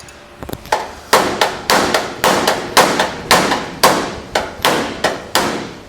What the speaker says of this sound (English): So I'm hammering on that area I just repaired.